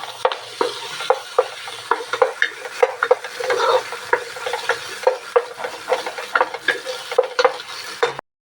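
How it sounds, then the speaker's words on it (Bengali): Egg frying in butter in a pan for hakka noodles, stirred with a utensil: steady close sizzle under repeated sharp scraping and tapping strokes in an uneven rhythm, with no talking. "ডিমটা একটু নেড়ে চেড়ে নিব।"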